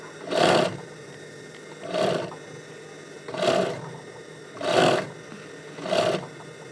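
A sewing machine stitches a bag handle in five separate bursts, each a loud, close whirring run of about half a second to a second, divided by short pauses.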